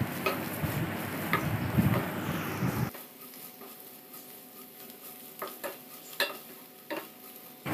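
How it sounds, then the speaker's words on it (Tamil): Masala powders for channa masala are sautéed in oil in a pan: a dense crackling sizzle with scraping for a few seconds, then quieter frying with intermittent clinks of a stirring spoon. "நம்ம சேர்த்த அந்த மசாலாத்தூள் எல்லாத்தையுமே நல்லா எண்ணெயிலே வதக்கி விட்டுருங்க"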